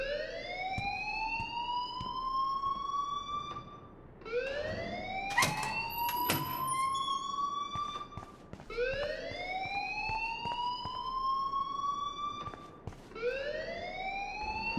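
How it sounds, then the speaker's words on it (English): A fire alarm in the video game Life is Strange wails in repeated rising sweeps, each lasting about four seconds, loud and steady with no talk over it. "please turn off that alarm since that's your job"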